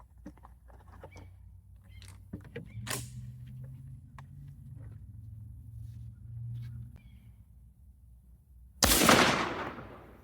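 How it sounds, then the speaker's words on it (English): A shotgun fitted with a Muller passing choke fires a single loud, close blast near the end, preceded by quiet shuffling and handling noises outdoors against a low steady hum. "Let's go ahead and shoot at 40 yards with the Muller passing choke."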